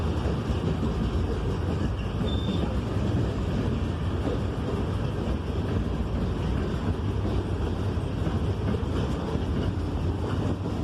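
A freight train rumbles steadily through a village, a continuous heavy roar with faint rattling throughout and no voices.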